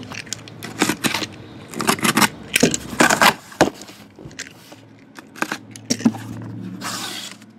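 Keys jangling and clinking in sharp, irregular bursts during a 2013 Triple Threads baseball card box break, close and fairly loud, with rustling handling noises between.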